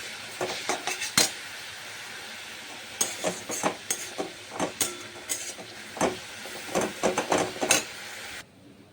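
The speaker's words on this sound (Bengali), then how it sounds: "হ্যাঁ, এই যে কড়াই বসিয়েছি, প্রথমে শাকটা করব" A metal karahi and utensils clatter on a home stove while cooking, with irregular sharp clinks and knocks in uneven clusters over a low steady background hiss.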